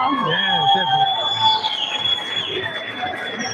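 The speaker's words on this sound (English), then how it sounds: "I don't know if you guys can hear that crowd behind us" Crowd noise at a live fight event in Marbella, a steady broad murmur of many voices with scattered cheers, close by and continuous, with some talking mixed in and a faint high tone running through.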